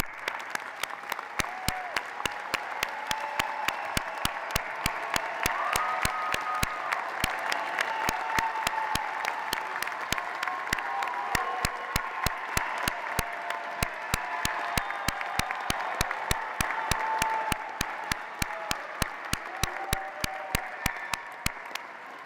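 Law school graduates at a commencement ceremony applaud their families and friends, a long steady patter of moderate, somewhat distant clapping lasting over twenty seconds, with sharp recurring clicks running through it.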